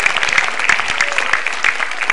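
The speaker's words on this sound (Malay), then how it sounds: "Tepuk tangan buat Metro TV." Stand-up comedy audience clapping for Metro TV, loud, close and crisp, with individual sharp hand claps standing out in an uneven rhythm over a lively crowd.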